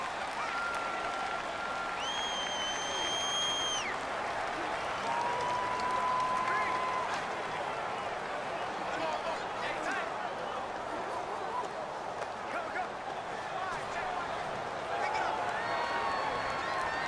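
Dense roar of a stadium crowd at a Cardinals vs Packers football game, a steady loud wash of voices and cheering throughout, with a few whistle-like tones rising briefly above it.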